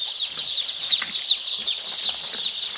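Day-old foreign chicks on a Ghana poultry farm cheep constantly in a dense, high-pitched chorus of overlapping peeps, close and lively, with no voices.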